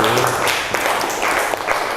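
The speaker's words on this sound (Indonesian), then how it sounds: "beri tepuk tangan anak-anak sekalian" Children applaud together in a classroom during an Arabic language lesson, a dense, steady patter of small hands that fills the whole moment at close range.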